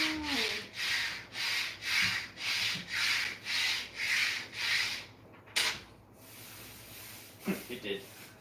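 A metal ring scraped back and forth across a hard work surface to remove soldering residue: about ten steady rhythmic rubbing strokes, close and fairly loud, followed by a couple of brief knocks and small movements.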